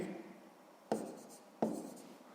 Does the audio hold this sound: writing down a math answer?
yes